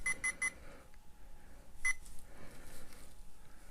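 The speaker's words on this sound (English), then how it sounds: "those 5 beeps indicate that it will speak the time every hour" A talking watch gives a quick run of short, bright electronic beeps, then a lone beep a moment later, close and clean in a quiet room.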